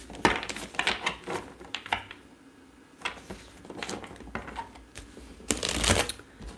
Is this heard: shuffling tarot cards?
yes